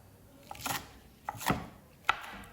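A knife chops green onion into short sections on a board, giving three soft, separated cutting strokes with quiet scraping between them, close and fairly faint.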